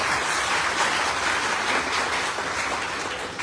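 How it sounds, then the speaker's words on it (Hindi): Audience applause fills a gathering welcoming a debt-relief team, a dense, continuous wash of clapping from a crowd, loud and steady for several seconds before easing slightly at the end. "मैं चाहता हूं एक बार जोरदार तालियां आप लोगों के लिए हो जाए।"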